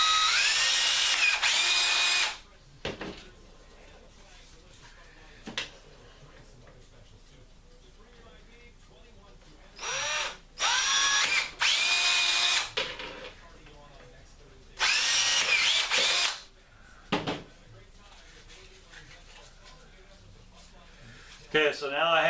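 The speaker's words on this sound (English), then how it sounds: "you're going to want to drill 3 holes in this" A power drill bores three holes into a workpiece while a low primer alarm is being built, three separate loud bursts of high whining drilling with quiet pauses and faint handling between them.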